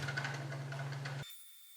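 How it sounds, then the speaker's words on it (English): A maple burl being sanded on a wood lathe gives a steady low motor hum under a soft, rough abrasive hiss. It continues evenly, then stops abruptly partway through. "I'll record how long it takes to do all the sanding on this piece"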